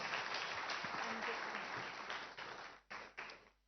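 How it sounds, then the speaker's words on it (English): Audience applause for top chess players at an event, a dense clapping wash that fades and breaks off into a few scattered final claps. "Please, round of applause"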